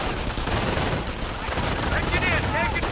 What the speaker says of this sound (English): they're taking MG fire to the face